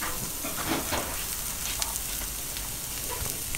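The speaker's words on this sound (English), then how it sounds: "you're gonna fry your veggies" Vegetables fry in a pan of pork chop drippings, a steady close sizzle with occasional pops and stirring scrapes and no voices.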